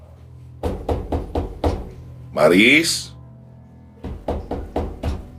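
Knocks on a house door as a sound effect in a Filipino audio drama: a run of five firm raps, a voice calling out, then another run of five raps.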